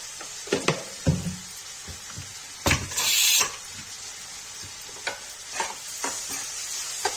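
Tomatoes with salt and red chilli frying in a pan for Kashmiri chana dal. A steady sizzle runs beneath repeated scraping clatter of a spoon, with one louder hissing burst in the middle.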